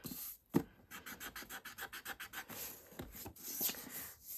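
Rubbing off the edges of a drawing by hand, a quick rhythmic series of soft raspy strokes on paper, close and fairly quiet, about a dozen even back-and-forth rubs.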